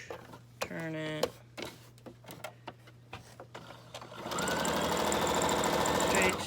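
Sewing machine stitching through a bubble mailer, starting with scattered clicks and short bursts, then settling into a steady, loud, continuous whirring run. A brief rising squeak is heard near the start.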